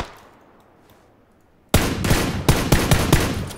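Loud bursts of gunfire in the battle royale game PUBG, several sharp close shots cracking in quick succession after a near-silent lead-in, with no talk.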